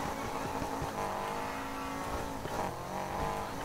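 Subaru boxer engine revving steadily in Need for Speed Heat, a continuous loud racing-car drone with shifting pitch and faint tire noise, no voices.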